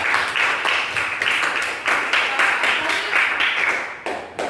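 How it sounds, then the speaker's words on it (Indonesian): Classroom applause for a student group after their presentation, a steady patter of many hands clapping for several seconds, fairly close and even, with no talk over it. "Tepuk tangan untuk semua peserta kelompok 5"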